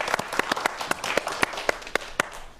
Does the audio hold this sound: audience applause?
yes